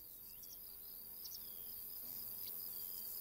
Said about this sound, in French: Le chant des criquets est produit par le frottement des ailes l'une contre l'autre